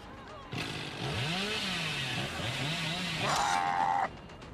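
A video game chainsaw revs up and down in rising and falling pulses, loud and close, for a few seconds before cutting off.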